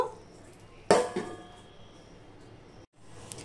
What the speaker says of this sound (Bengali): আমি মিনিট খানিক ঢাকা দিয়েই ফুটিয়ে নেব